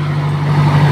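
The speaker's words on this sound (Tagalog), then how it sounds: "Ayan yung makina niya. So papatunayan ko na cold start siya." A Toyota Innova engine idles after a cold start with a steady, even low hum, close and alone without talk.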